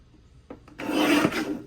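Paper trimmer slicing a single sheet of textured cardstock for a scrapbook page: a short, close rasping cut of about a second, rising after two faint taps.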